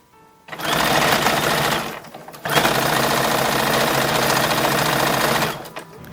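A sewing machine stitches pockets onto a 1910s–1920s style toddler summer dress, running in two long, loud, steady bursts separated by a brief pause, with no talking.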